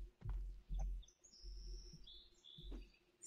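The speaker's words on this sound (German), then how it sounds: "Flieg, Vogel, flieg." A bird chirps in a recycling center video game, with bright high whistled calls over a few soft thuds and low rumbles from the game scene.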